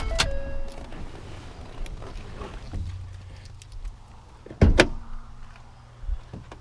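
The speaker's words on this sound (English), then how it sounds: "It's got power sliding rear glass with defrost." The power sliding rear window of a 2014 Ford F150 Lariat crew cab pickup: a soft electric motor hum running for a few seconds inside the cab, followed by a sharp thump as the glass stops, then faint clicks.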